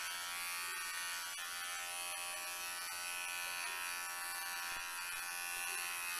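Electric hair clippers buzz steadily through a man's haircut, a continuous close, even drone with slight shifts as the blades pass through the hair, with no talking.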